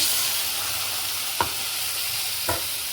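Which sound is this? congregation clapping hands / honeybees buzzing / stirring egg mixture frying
stirring egg mixture frying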